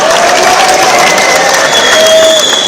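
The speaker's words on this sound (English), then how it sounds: "Pupils waited cheerfully in the court of a boys' high school in Damascus on Sunday morning and applauded the school secretary, Raid Nasser" Pupils gathered in the courtyard of a boys' high school in Damascus applaud during a flag raising, a dense, loud, continuous patter of many hands clapping with crowd murmur mixed in throughout.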